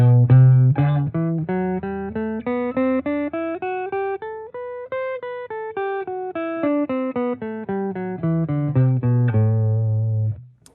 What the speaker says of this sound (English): So this is the Dorian mode scale.